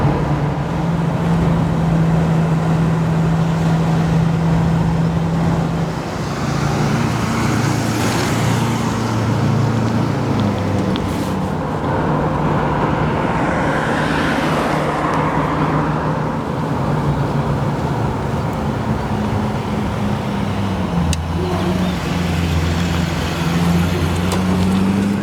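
A classic car engine idles a bit loud and fast in a workshop, rev counter just above 1,000, with a steady, close low drone and rumble whose pitch wavers slightly over the long stretch, and no talk.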